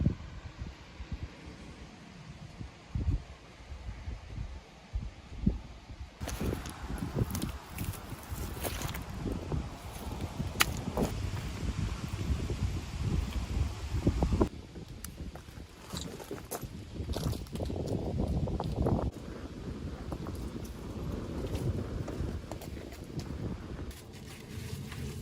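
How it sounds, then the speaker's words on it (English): Wind gusting across an outdoor campsite beside a fire pit, buffeting the microphone with steady low rumble and rising surges throughout, no talking. "It's a little windy."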